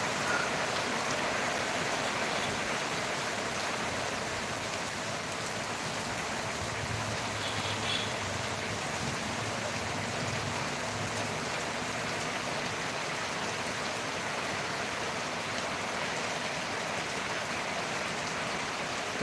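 Afternoon rain falling steadily, an even, continuous broadband hiss of drops on surfaces that holds at a constant level throughout, with no voices.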